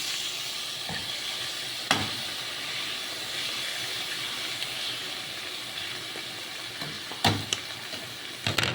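Ground meat sautés in a pan with a continuous moderate sizzle and hiss, broken by a few sharp clicks and scrapes from stirring. There is no speech.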